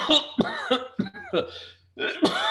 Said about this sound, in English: holding himself up as he coughs and has trouble breathing